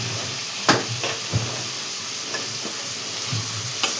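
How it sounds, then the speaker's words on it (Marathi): Eggplant and potato pieces frying in spiced oil in a pan give a steady, close sizzle, broken by a few sharp stirring scrapes. "तर चला आपण त्याच्यामध्ये वांगे मस्त असे टाकून देऊया."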